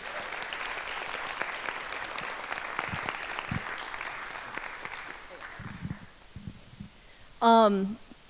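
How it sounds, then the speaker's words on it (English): An audience applauds the Asia board at an event, the clapping fading out midway, followed by a few scattered sounds and a brief voice near the end. "so a round of applause for the Asia board, please."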